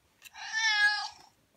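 A recorded cat meow played back from a Ravensburger TipToi talking globe, one clear drawn-out mew lasting about a second, close and isolated against silence.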